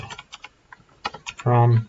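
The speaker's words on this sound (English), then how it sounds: "typing." Computer keyboard typing during a Python programming lesson: a short run of light, scattered key clicks, then a brief louder burst, fairly close and with no speech over it.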